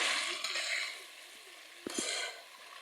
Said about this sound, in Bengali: এবার আমরা ঢাকনা খুলে এটা ভালো করে নেড়ে দেবো, নিচে যেন না লেগে যায়।